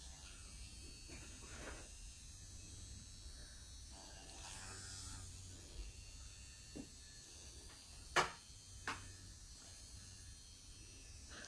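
A Flawless Contour rose quartz face massager vibrates with a steady, faint electric buzz against the skin, with a few soft taps and clicks over a low hum.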